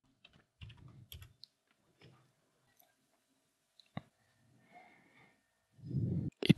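A computer keyboard on a Debian 12 Linux machine is used to type a sudo password: sparse soft key clicks in a short burst, then a lone louder tap, with breathing and a low rumbling noise near the end.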